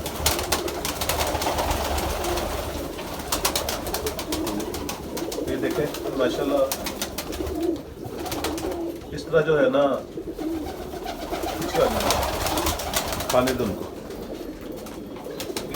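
Pigeons coo and flutter close by while feeding in a loft, under steady talk from a man nearby.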